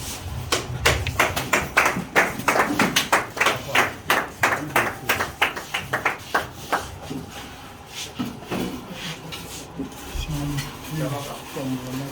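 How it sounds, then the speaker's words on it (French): Scattered clapping from a gathered crowd at a political event in Congo, uneven bursts of hands with distinct individual claps that thin out toward the end, with some voices underneath. "Avec vos applaudissements, s'il vous plaît"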